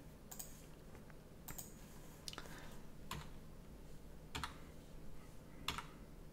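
Sparse keystrokes on a computer keyboard during an Objective-C programming lesson, about half a dozen quiet, irregular clicks over a faint steady hum, with no talking.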